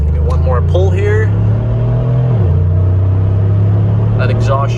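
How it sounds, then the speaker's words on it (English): A Mercedes G550 4x4 Squared with an upgraded exhaust revs loudly up close, a deep rumbling engine note that climbs, dips and settles back to a throaty idle. "That exhaust sure does sound good."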